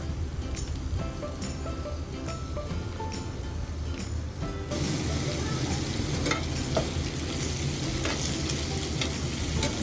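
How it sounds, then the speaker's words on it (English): Onions frying in a pan for an Indian chicken curry, a steady close sizzle with frequent crackles and stirring scrapes that grows louder and denser partway through as they hit the hot oil, with no voices. "put in some onions and fry them well"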